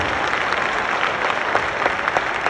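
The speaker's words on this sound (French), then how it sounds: "s'il vous plaît, on applaudit ensemble" Audience clapping together at a comedy show, a dense steady burst of applause with no talk over it.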